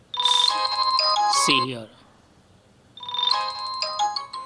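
A Vivo Y16 phone plays its ringtone at maximum volume, a loud bright melodic phrase that breaks off, pauses about a second, then starts again, with a short spoken remark over the first part.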